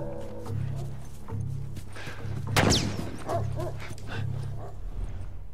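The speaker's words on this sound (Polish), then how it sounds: "to szczekanie w tle nie robi dla mnie nic." Dogs bark in the background of the video game The Last of Us, repeated barks and yips mixed with whimpers over a steady low drone, with one louder burst in the middle.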